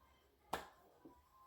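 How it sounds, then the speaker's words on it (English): A single sharp hand clap rings out near and clear against quiet, followed by a faint softer pat a moment later. "I guess the clap wasn't necessary"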